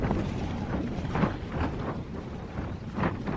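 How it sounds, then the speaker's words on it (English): Steady, roaring wind on Cribyn mountain in the Brecon Beacons buffets the microphone in heavy gusts, a loud, continuous rumble with no voices. "Bloody windy as hell"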